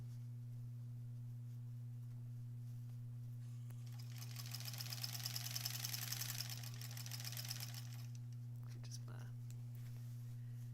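A domestic sewing machine stitches a granny squares quilt in a short burst of rapid, even whirring in the middle, then stops, set against a constant low electrical hum in a quiet room.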